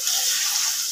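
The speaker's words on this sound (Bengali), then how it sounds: "এবার আমি এর মধ্যে দিয়ে দিচ্ছি একটু সয়া সসটা দিয়ে ভালোভাবে আমি একটু মিক্স করব।" Veg hakka noodles with soy sauce being stirred in a hot pan, a steady close sizzle and scraping stir running throughout the second.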